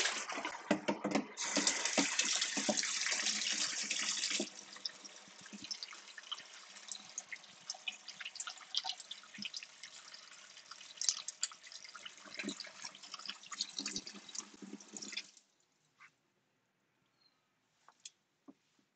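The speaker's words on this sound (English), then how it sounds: "let's dump a little bit of this water out and introduce some fresh" Water is dumped out and fresh water runs into a rinse tray for cyanotype prints: a steady splashing, running flow lasting about fifteen seconds, then stopping, leaving a few faint drips in near silence.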